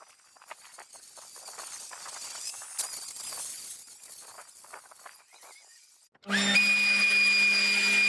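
Power trimmer edging and trimming a spring lawn, with a steady engine whine kicking in loudly near the end after several seconds of rustling outdoor activity.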